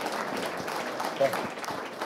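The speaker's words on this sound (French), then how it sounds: "Une bonne main d'applaudissements, s'il vous plaît," At an outdoor mountain and nature public market, a crowd gives soft, scattered applause from a distance, mixed with murmuring voices in the background.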